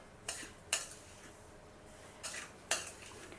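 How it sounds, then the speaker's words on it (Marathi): Semolina roasting in a pan, stirred with a utensil that scrapes and clinks against the metal in four short, fairly faint strokes, in two pairs, over a quiet background. "रवा भाजायला लागून 15 मिनिट झालेले आहेत"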